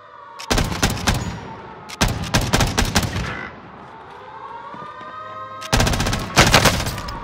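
Rapid automatic gunfire on Rebirth Island in Call of Duty Warzone crackles in three loud bursts, the first two close together, then a quieter pause with a faint tonal whine before a final heavy volley.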